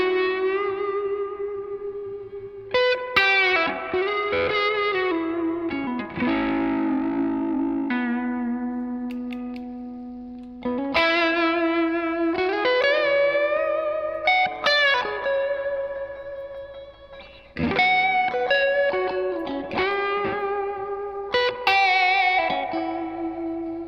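Electric guitar played through a Wampler Tumnus overdrive pedal, a Klon clone, giving mild overdrive: sustained, loud chords and melodic phrases in three swells, with reverb and echo tails and no voices.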